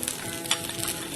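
Peas, cauliflower and beetroot sizzling in a few drops of oil in a pan, a short steady close frying hiss with a faint stir.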